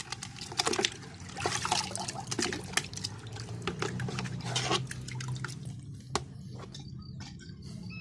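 Liquid fertilizer for polybag tomato plants pours into a container holding 16 liters of water, a continuous trickling, splashing stream with scattered drips, close and fairly quiet, with no talking.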